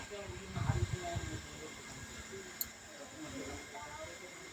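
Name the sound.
pointed gourd frying in oil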